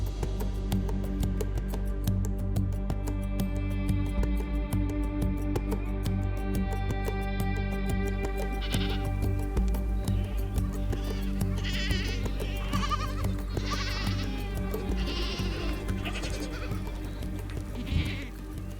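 Goats bleat repeatedly among nomadic herders in the Sahara, with several overlapping wavering calls at moderate distance over a steady, loud background drone.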